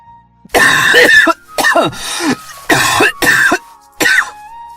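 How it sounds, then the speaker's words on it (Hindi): A run of loud, harsh coughs in close bursts with short pauses between them, near and clear, with no talking. "तभी बाहर से किसी के खांसने की आवाज आई।"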